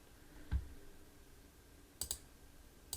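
Computer mouse clicks while selecting filters in SQL Server profiling software: one soft click near the start, then a quick double click and a single click toward the end, all close and crisp against a quiet room.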